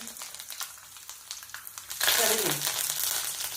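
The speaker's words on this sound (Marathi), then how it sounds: "मोहरी, जिरे आणि पहिला शेंगदाणे घालून शेंगदाणे तळून घ्यायचं" Peanuts frying in hot oil with mustard seeds and cumin for garlic rice, starting as a quiet crackle and turning into a loud, dense sizzle halfway through, with no talking over it.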